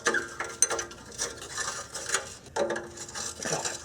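Wrench clicking and ratcheting on rusty exhaust mid-pipe bolts of a Honda Accord, a series of close mechanical ticks and scrapes in uneven bursts with no talking.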